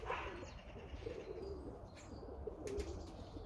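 Budapest tumbler pigeons coo softly inside a loft, low murmuring calls over a quiet background with a few faint wing flutters and chirps.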